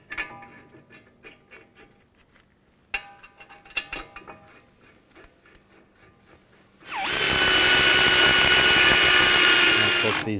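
Scattered metallic clinks and ticks of parts being handled on a 2013-19 Nissan Sentra's front brakes, then a loud close power tool whirs steadily for several seconds as it drives in the caliper bracket bolts.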